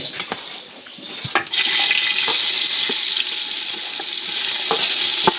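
Cinnamon, cloves and onion hit hot oil for bamboo biryani, opening with a few light clinks before a loud, sustained sizzle takes over and continues evenly to the end, with no talking.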